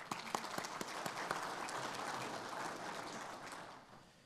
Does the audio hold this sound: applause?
yes